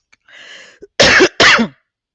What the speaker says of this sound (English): Oh my gosh, I got this cough.